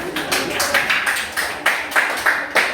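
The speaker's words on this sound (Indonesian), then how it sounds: "tepuk tangan untuk Kirem" A small classroom group applauding a student named Kirem, with uneven, moderately loud claps that come in pulsing bursts, several per second, and no talk over them.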